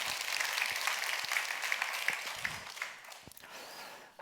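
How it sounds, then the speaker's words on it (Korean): A church congregation at a Wednesday worship service claps together in sustained applause, dense and fairly loud from start to finish, tapering slightly near the end. "하나님 앞에 감사하면서 우리 박수 한번 하시겠습니다"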